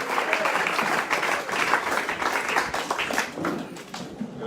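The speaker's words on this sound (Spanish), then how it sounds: "Dale un aplauso fuerte al que vive" A church congregation claps loudly during a Spanish-language worship service, a full, continuous burst of applause with many hands, some sharp individual claps standing out before it thins slightly at the end.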